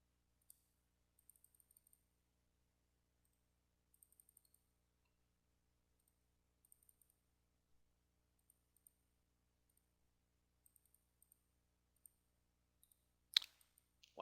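Quiet, sparse computer mouse clicks while reordering files in Adobe Acrobat X, single and small clustered taps spread out over time, faint and close, ending in a couple of louder clicks.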